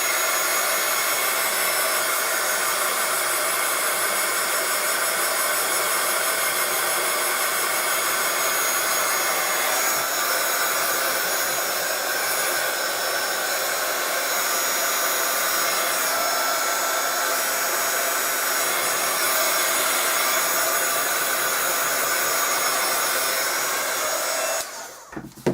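Hair dryer blowing steadily on a craft project, a loud, close, continuous whooshing roar lasting over twenty seconds before cutting off abruptly, with no speech.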